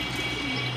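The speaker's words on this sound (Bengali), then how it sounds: "এই যে দেখেন আজকে কবুতর উড়াইতেছি।" Pigeons coo briefly and softly while being flown outdoors after heavy rain, a low steady hum running beneath the short call.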